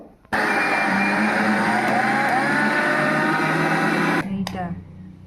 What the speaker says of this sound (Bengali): এবার এটাকে আমি মিক্সারে গুঁড়িয়ে নেব।